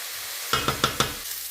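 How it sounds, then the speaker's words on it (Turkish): Onions fry in a pan for a börek filling, a low sizzle under four quick, evenly spaced scraping strokes of stirring. "Evet soğanlarımız güzelce kavruluyor."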